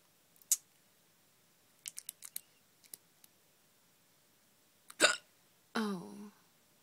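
A person has the hiccups, giving a few sharp, abrupt hiccups spaced across several seconds amid small clicks and breathy noises, close and fairly quiet, ending in a longer voiced gasp.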